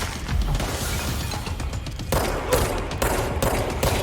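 Rapid gunfire from a weapon with infinite ammo in the video game Control, dense bursts of shots with mechanical clatter, loud and close, intensifying in the last two seconds.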